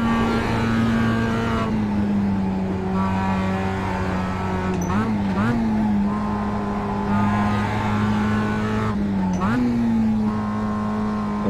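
A small Mazda race car in a racing simulator game drones steadily at high revs, with brief dips and quick shifts as it accelerates again, loud and continuous. Someone talks over it.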